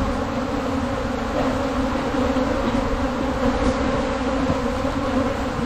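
Apis honey bees swarming around a fallen tree trunk, a loud, dense, continuous buzz of many wings close by.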